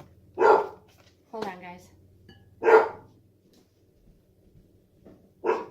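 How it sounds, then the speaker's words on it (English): A dog barks three times in sharp, separate bursts spaced a second or two apart. A voice speaks briefly between the barks. "what's she barking at?"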